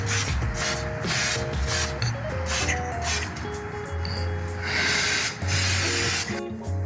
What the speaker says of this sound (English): to put a bit of WD-40, to lube those bolts that are on the differential underneath